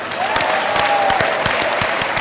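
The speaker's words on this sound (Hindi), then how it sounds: "सिद्धू जीत गया, ताली बजा दो।" A studio audience on a Hindi TV game show claps in a dense, sustained burst of applause, loud and close, with individual sharp claps standing out.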